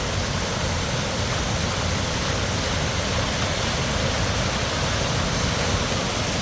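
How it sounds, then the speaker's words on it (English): Water pours steadily at the waterfall of the FDR Memorial in Washington DC, a loud, unbroken broadband rush that stays even throughout, with no voices over it. "Beautiful waterfall."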